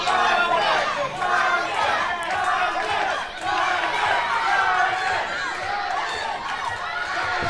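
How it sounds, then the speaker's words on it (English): Arena crowd at a professional wrestling event roaring and cheering loudly and steadily throughout, a dense wall of voices with shouts rising out of it during the match. "The crowd firmly behind Victor Logan"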